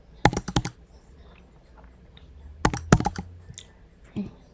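Keys on a computer keyboard clack in quick bursts as a name is typed into a web form, with short clusters of close, sharp taps separated by quiet pauses.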